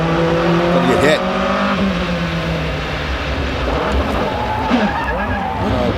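Le Mans prototype or GT race car skids during a multi-car crash with an Audi and a Porsche at Portland in the 2004 American Le Mans Series, loud tire and engine noise throughout with commentators talking over it.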